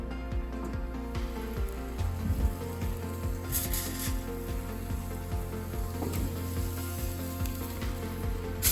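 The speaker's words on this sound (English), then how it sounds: "Tried to cook pork tenderloin on the grill" Pork tenderloin sizzling on an outdoor grill, a soft steady crackle and hiss of cooking meat with small pops throughout, fairly quiet and unaccompanied by talk.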